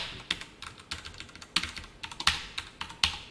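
Rapid typing on a computer keyboard while writing JavaScript and jQuery code, with close, crisp key clicks in uneven bursts and several louder accented strokes, with no speech.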